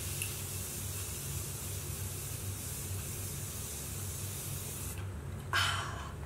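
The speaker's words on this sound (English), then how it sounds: "So I'm going to spray my entire face." A steady aerosol makeup setting spray hisses continuously for several seconds up close as it is sprayed on a face, then cuts off, followed by a faint rustle.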